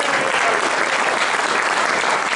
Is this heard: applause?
yes